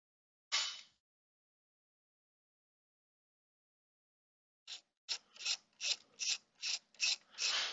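A ratchet works loose the hood latch bolt on a VW Mk4 Golf TDI, one short zip, a pause, then a steady run of about nine quick, close ratcheting strokes.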